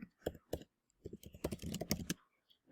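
Quick bursts of key clicks on a computer keyboard come in irregular clusters with short pauses between, close and crisp, with no talking over them.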